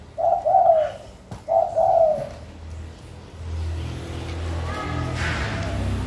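A spotted dove coos in two short, mid-pitched phrases close by, followed by a quieter stretch of low outdoor rumble with a passing vehicle.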